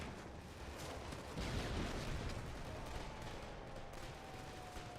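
Constant gunfire and explosions in the game Killzone 2 roll along as a dense, distant rumble of shots and blasts. The din is steady and moderately loud, and no one talks.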